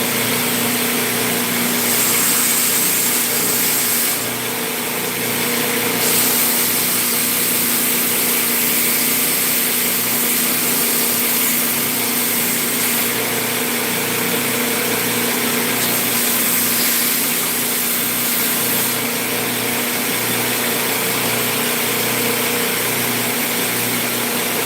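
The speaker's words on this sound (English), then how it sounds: "get it taped to the grinder and begin bevel grinding" A grinder bevel-grinds a Japanese Santoku kitchen knife blade, giving a steady, loud motor drone with a constant whine that runs unbroken for the whole stretch, with no talking.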